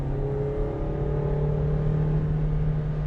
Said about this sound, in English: I'm going to go into third gear, and we're just going to put it, give some power